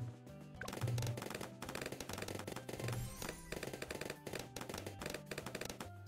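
Sniper monkeys firing in the Bloons tower defense game, rapid repeated gunshot cracks over busy game music and effects, loud and continuous throughout.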